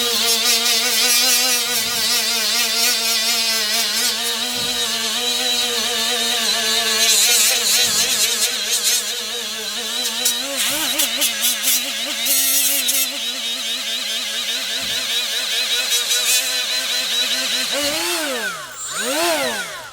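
A Milwaukee die grinder fitted with a Scotch-Brite surface-conditioning wheel whines steadily at high speed, loud and near, with the pitch dipping and recovering under load and then spinning down at the end.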